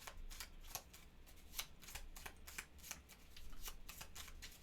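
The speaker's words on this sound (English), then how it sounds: "All right, so that's shuffled up." A deck of cards for the board game Escape Plan is shuffled, giving quiet, rapid papery riffles and flicks in an irregular stream across a few seconds, with no voices.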